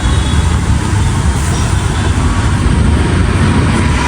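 Steady, loud road rumble from inside a moving cab on the way to a zoo, a continuous broadband drone of engine and tyre noise with no pauses and no talking.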